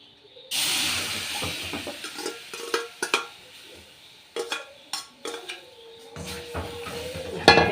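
Tomatoes and green chillies dropped into a hot pan of heated spice powders, giving a hissing sizzle followed by intermittent scraping stirs and clinks of a spoon against the pan.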